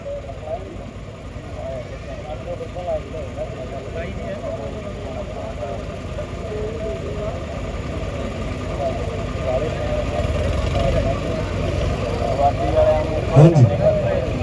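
A tractor engine idles and runs steadily at a village tractor contest, a continuous mid-low drone that swells slightly toward the end, with an announcer talking over it throughout.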